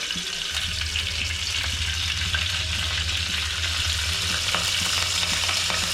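Curry leaves and mustard seeds sizzle in a couple of spoons of hot oil, a loud, continuous crackling fry with steady popping and a low hum beneath, no voices.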